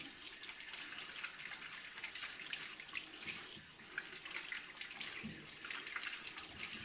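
Steady running water splashes as dry onions are rinsed in a basin, a continuous close hiss of flowing water with small splashy fluctuations throughout.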